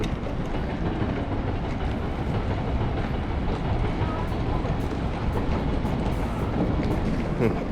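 A train passes beside a river in Fukuoka, Japan, giving a steady, continuous rolling rumble with faint rail clatter that holds an even loudness throughout.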